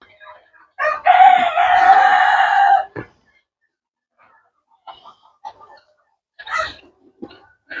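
Chickens and roosters at a poultry farm: a loud, sustained rooster crow dominates the start, followed by scattered nearby clucks and short calls from the flock.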